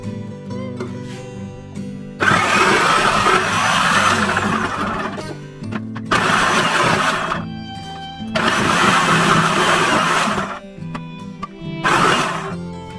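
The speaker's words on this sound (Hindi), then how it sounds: "ये वाली जो डिस्क है जी इसके अंदर मैं कद्दूकश करूंगी" A food processor fitted with a grating disc shreds red Pakistani and orange UK carrots, its motor whirring loud and close in four separate bursts with short quiet pauses between them.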